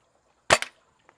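A single sharp shot from a 200 to 250 FPS Nerf sniper blaster fires over a chronograph: a loud, close crack with a quick second pop right behind it, then near silence and a faint tick.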